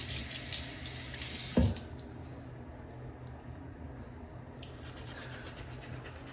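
Water runs from a tap for wetting shaving soap, a close, steady rushing stream that stops abruptly after about a second and a half with a small splash, leaving quiet room tone and faint dripping.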